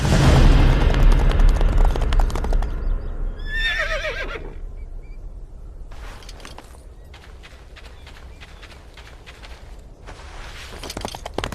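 A video game horse gives a sharp whinny in the middle of the sequence, set among game sound effects: a loud rumbling boom at the start, then sparse clicks and a closing burst of noise.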